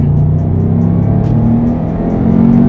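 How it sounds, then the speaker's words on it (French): A Subaru Legacy S401 accelerates hard with a loud, continuous engine drone from close range as the second turbo kicks in. "Il y a bien un deuxième turbo qui se déclenche."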